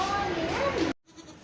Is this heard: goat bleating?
yes